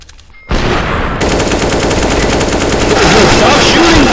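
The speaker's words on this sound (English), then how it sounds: "Stop shooting me, dude!" Rapid automatic gunfire in a multiplayer shooter video game, loud and continuous bursts right up close.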